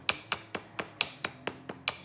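Sharp stone-on-stone strikes from flint knapping on a Kentucky hornstone turtle-back core, about nine crisp clicks at a steady quick rhythm, close and fairly quiet, with no talk.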